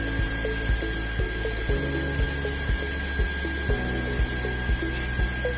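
An Electroweld SP 40P pneumatically operated rocker-arm spot welder runs steadily with a constant electrical hum, while a series of short, regular clicks and thumps repeat roughly every half second, close and fairly loud.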